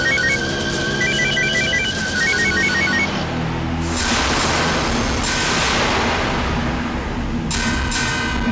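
Telephone ringtone in a Tamil television drama, a loud repeating electronic melody of short chirping phrases, then heavy noisy bursts wash over it later on.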